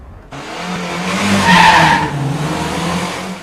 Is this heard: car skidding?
yes